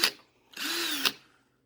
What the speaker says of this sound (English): You put it to the drill